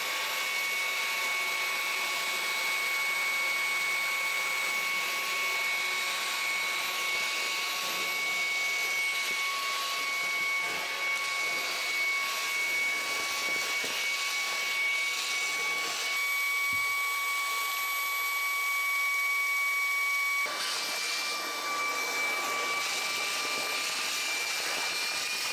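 A Ryobi jobsite hand vacuum runs continuously on a floor, a loud steady high-pitched motor whine with airy suction rush that shifts slightly as it moves, no talking.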